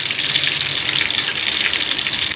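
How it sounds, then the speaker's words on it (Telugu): Cumin seeds and chana dal frying in a generous amount of oil for mango pickle, a steady dense crackling sizzle that holds even and close throughout. "జీలకర్ర, శనగలు బాగా వేగనివ్వాలండి"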